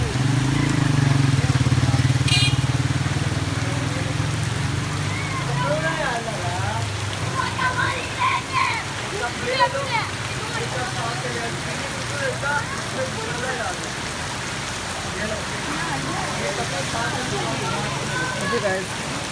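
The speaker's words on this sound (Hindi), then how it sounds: "बारिश और तेज हो गई है, पानी की स्पीड भी बहुत ज़्यादा होगी" Heavy rain pouring during a dangerous storm in Hyderabad, a dense, continuous hiss of falling water with a low rumble at the start, with a voice talking over it throughout.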